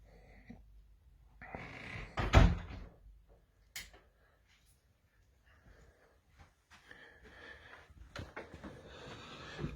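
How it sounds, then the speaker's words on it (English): Inside a vintage shop at night, a door is pulled shut with a sharp, loud bang, followed by quieter knocks and rustling movement and then a stretch of near silence. "I'll shut this door and all."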